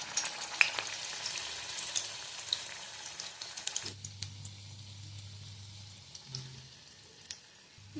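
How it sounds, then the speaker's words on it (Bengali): Spring onion pakora balls are dropped one by one into hot oil for deep frying, bubbling and crackling at close range with scattered small pops and some clinking, and no speech. "এক এক করে বল দিয়ে দেব তেলের মধ্যে।"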